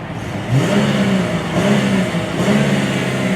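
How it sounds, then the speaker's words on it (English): A Chrysler 300C's V6 engine revs and drones steadily with a low, throaty exhaust rumble, the pitch rising and falling a few times, heard from inside the cabin. "It's a V6, sounds pretty typical of a V6."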